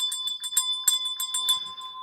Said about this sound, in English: Please get out your bells, guys.